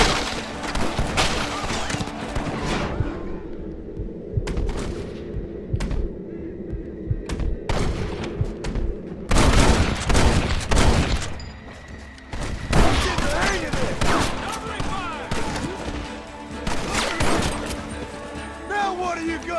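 Loud bursts of gunfire from a Red Dead Redemption shootout, with clustered rifle and pistol shots, some close and punchy and others scattered, separated by short lulls, with voices shouting over the fight.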